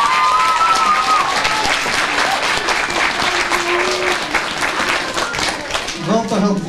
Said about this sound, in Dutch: Om te beginnen met een heel groot applaus voor al die bedrijven en voor Marlene die het georganiseerd heeft.